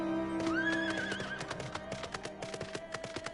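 A horse mount in the Final Fantasy XIV video game whinnies with a rising neigh over game music, then hooves clip-clop in a quick, steady rhythm, close and clear.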